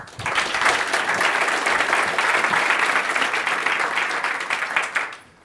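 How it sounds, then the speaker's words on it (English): A crowd applauds steadily for several seconds, dense clapping filling a room before tapering off at the end. "let's give them a big, big round of applause."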